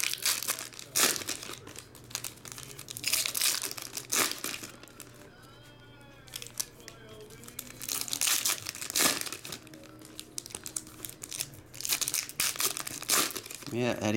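Crinkling foil wrapper of a 2019 Donruss Optic or Allen & Ginter baseball card pack being torn open, close and scratchy in several bursts, with a person talking in between.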